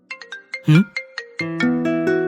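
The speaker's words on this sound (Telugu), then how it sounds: "ఇదిగోరా తనే కాల్ చేస్తుంది" A phone ringtone plays loudly nearby: a run of short melodic beeps that gives way to a sustained, ringing chime.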